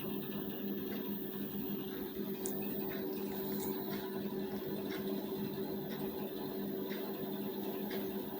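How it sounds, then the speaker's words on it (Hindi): A sewing machine runs continuously stitching a blouse, a steady close mechanical hum and whir with faint regular clicks, no pauses and no speech. "अब चलते हैं मशीन पे। अब इसकी करेंगे सिलाई।"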